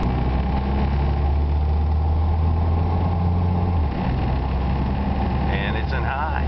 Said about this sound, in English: going for a ride in the 50 Oldsmobile. Second gear, third gear.